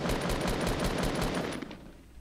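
Rapid automatic gunfire from a video game, a close burst of evenly spaced shots that fades out after about a second and a half, with no talking.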